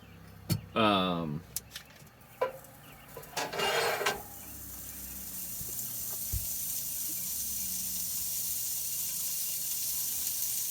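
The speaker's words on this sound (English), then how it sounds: "I should have started frying this a while ago." A steady frying sizzle builds and holds as a broad hiss, after a few brief bursts of running water and clatter near the start.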